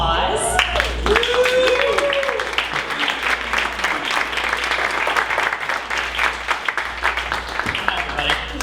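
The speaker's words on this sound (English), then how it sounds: "let's give him a round of applause" A room of listeners at a startup pitch event bursts into steady applause that lasts several seconds, with a voice speaking briefly over the start.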